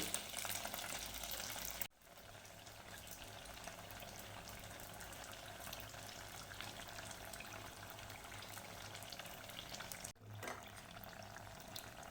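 Fasting-style dahi vada fritters deep-frying in hot oil give a soft, continuous bubbling sizzle, fairly quiet and steady, broken by two brief dropouts.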